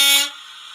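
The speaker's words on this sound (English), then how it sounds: "Honking a horn of a semi." A semi truck's air horn blasts once, close and loud, then cuts off sharply and leaves a faint ringing tail.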